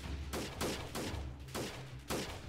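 Bursts of gunfire in the game Freeman: Guerrilla Warfare, about five loud volleys spaced roughly half a second apart, each a broad crackling blast with no voices.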